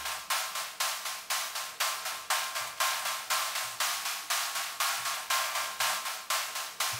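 A drum loop processed through a frequency shifter and a transient shaper, heard alone as a quick, evenly spaced pattern of bright, hissy hits, each one snapping in sharply and then decaying.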